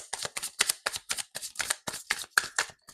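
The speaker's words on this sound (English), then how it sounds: "And while I'm shuffling" Oracle cards are shuffled by hand close up in about a dozen quick, crisp riffling bursts at an even rhythm, with no voice heard.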